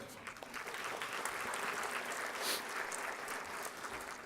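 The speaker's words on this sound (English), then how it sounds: "we want to applaud him for that" Applause from an audience at a city's State of the City address, a dense steady patter of many hands clapping at moderate level, filling the room without voices on top.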